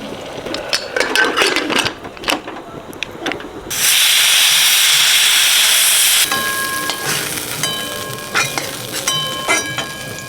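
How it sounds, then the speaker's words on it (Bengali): Steady broad hiss of rain falling near a home kitchen while a fry and olive chutney are being cooked, swelling loud for a few seconds amid clinks and sizzling, then continuing with scattered tonal kitchen sounds. "রান্না করতে করতে বৃষ্টি এসে গেছে"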